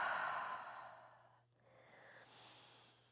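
During a yoga flow, a long, audible cleansing exhale through an open mouth sighs out close to the microphone and fades, followed by a softer breath.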